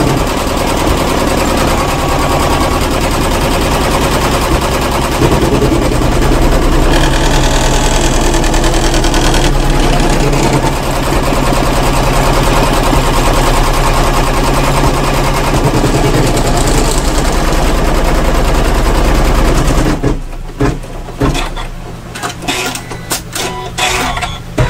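An embroidery machine stitching colorway 2 over bag foam, a loud continuous rapid mechanical chatter of the needle that runs steadily, then turns choppy and intermittent toward the end.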